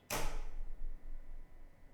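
A single sharp sliding clunk as a keyboard tray under a desk slams shut, followed by a faint low rumble fading out.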